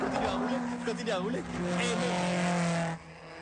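A car drives along a road, its steady engine drone running continuously beneath voices talking, then dropping off sharply near the end.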